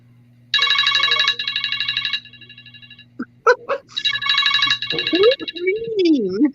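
A loud cell phone ringtone plays in a repeating electronic pattern of bright bursts, then a voice cuts in and talks over the continuing ringing.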